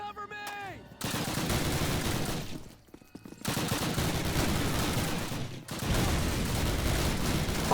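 A truck explodes amid heavy gunfire in Call of Duty, with dense loud bursts of automatic fire and blasts that continue almost without a break apart from two short lulls, and no talking over them.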